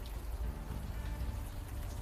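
Rain falling on a city street in the game Unavowed, a steady, dense patter of drops with low rumbling underneath and no pauses, heard as even ambience.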